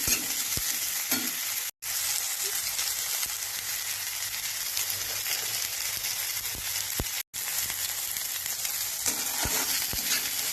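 Bitter gourd sautéing in a pan, a steady, close sizzle and crackle of frying with occasional stirring scrapes, cut by two brief dropouts and heard alone without talk.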